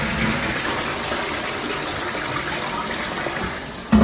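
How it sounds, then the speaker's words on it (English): A toilet in a condo bathroom flushes with a steady rushing gush of water that continues throughout, ending in a brief louder knock. "Forgot to flush the toilet in here."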